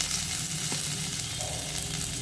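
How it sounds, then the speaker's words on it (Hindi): Crushed garlic, finely chopped ginger and onion sizzle in a hot pan as they are stirred. The frying hiss is dense, loud and continuous, with faint scraping from the stirring. "प्याज लहसुन और अदरक को थोड़ा सा हम 2 मिनट चला लेते हैं"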